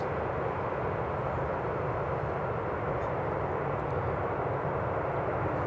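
An aircraft on ILS approach to Newcastle International Airport produces a steady, loud, broadband jet roar that holds without a break, with no talking.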